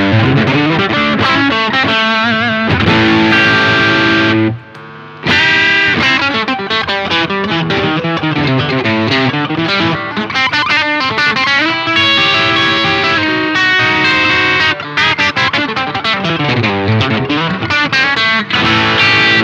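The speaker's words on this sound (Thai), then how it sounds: "เดี๋ยวคราวนี้ลองเปิดเป็นพวกเอฟเฟคตระกูลโอเวอร์ไดฟ์บ้างนะแล้วก็ลองเช็คปิกอัพแต่ละแก๊กดูว่าเป็นไงบ้าง" A Lavish Stark electric guitar plays through an overdrive effect, giving a thick, distorted tone as chords and riffs run continuously with one brief pause and no talking.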